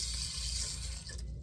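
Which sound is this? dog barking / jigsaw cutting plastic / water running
water running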